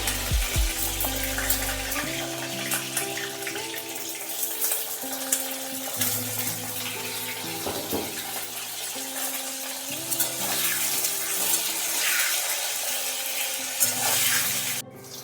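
Eggplant pieces fry in hot oil in a home kitchen, a dense crackling sizzle mixed with clatter and stirring noises, steady throughout at close range with no talking.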